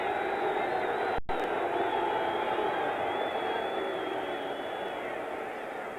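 Restless football stadium crowd at a 1977 Rams at Saints game in New Orleans, a steady loud roar of massed voices just before a kickoff, continuous and unbroken with one brief dropout.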